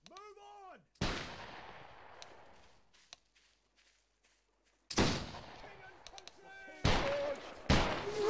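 Four loud musket-style gunshots ring out in a Battle Grounds III linebattle skirmish, each a sharp crack with a long echoing tail, the first alone after a brief whistle-like tone and the last two in quick succession near the end.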